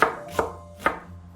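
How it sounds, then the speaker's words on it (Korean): A knife slices through an onion on a cutting board, giving three distinct, evenly spaced chops close by, each a sharp thud-crack, with no talking. "양파는 2cm, 간격으로 썰어주세요."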